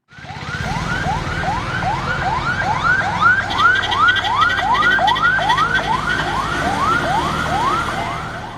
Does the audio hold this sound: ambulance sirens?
yes